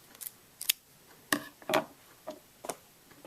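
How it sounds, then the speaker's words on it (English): Scissors snip yarn during crochet beanie work, making a handful of sharp, close clicks spaced irregularly over a few seconds in a quiet room. "I'm going to cut the rest of this off"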